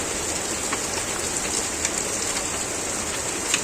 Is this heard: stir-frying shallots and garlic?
no